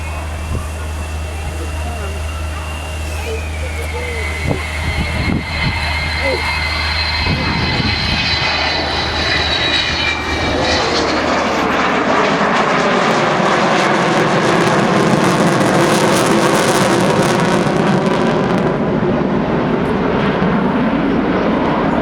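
An Avro Vulcan XH558 bomber makes a jet flypast at RNAS Culdrose. A thin whistling engine tone gives way after about ten seconds to a loud, sweeping, rumbling roar that fills the rest of the pass.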